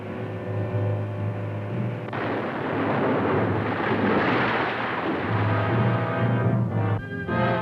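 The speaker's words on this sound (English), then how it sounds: "a torpedo speeds toward the burning German ship" A torpedo strikes a burning German ship at sea, a long, heavy rumbling blast that swells and roars for several seconds before fading into crackling, rushing noise.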